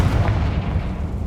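Confringo fire-blast spell cast in the Hogwarts Legacy video game, a dense, rumbling burst with heavy low-end boom that sustains across the moment, loud and close with no voices over it.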